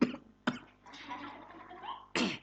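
Several close coughs break out during a Quran study session: a short one, another moments later, a rougher stretch of throat noise, then a final strong cough.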